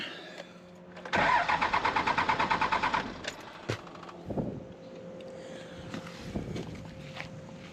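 A 2001 Cummins diesel engine cranks on its starter in a fast rhythmic chug for about two seconds without catching, followed by a few clicks and clunks nearby.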